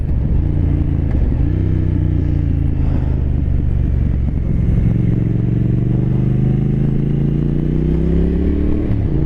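A 2023 Triumph Thruxton RS Chrome Edition cafe racer rides at speed. Its engine gives a loud, steady drone that climbs in pitch as it accelerates, close up, with rushing wind.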